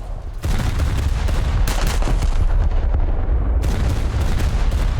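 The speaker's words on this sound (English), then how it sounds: "Oh wow, that was a big explosion" Heavy naval gunfire and a big explosion from a warship video game featuring the USS Mississippi, a loud, dense, continuous barrage of booming shots with sharp bursts layered over a rumbling low end.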